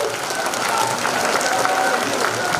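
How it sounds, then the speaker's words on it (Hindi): Audience applause at a welcome ceremony for a political leader, a steady dense wash of clapping from a crowd that holds at an even level throughout, with no pauses. "तो जोरदार तालियां हो जाएं आप सभी की"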